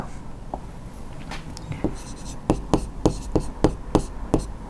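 Chalk or marker tapping and scraping on a classroom board during a Class 10 maths lesson on trigonometry, a run of sharp, evenly spaced strokes close by, with faint speech in the background at the start.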